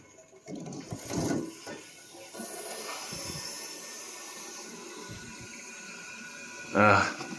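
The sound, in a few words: water running from a tap in an old house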